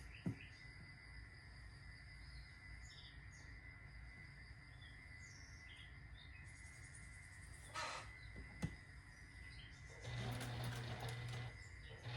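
A sewing machine stitches a quilt block in a steady, soft mechanical whir, with a few brief clicks and a louder handling burst near the end.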